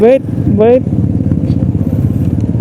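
Motorcycle engine braking on a night ride, with two short rising whines of the revs near the start, then a steady low engine rumble and road noise continuing close by without speech.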